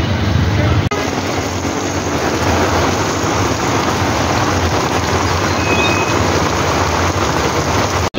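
Heavy rain pours steadily on a street in Mumbai, a dense, loud, unbroken wash that lasts throughout, with a brief jolt near the start and an abrupt cut at the end.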